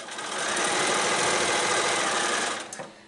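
A sewing machine runs in one steady, continuous burst while back stitching quilt binding on a small quilt, close and loud, rising at the start and stopping abruptly near the end.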